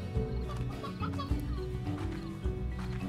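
Chickens cluck in the video game Slime Rancher, repeated short clucks over a steady, busy game soundtrack with no speech.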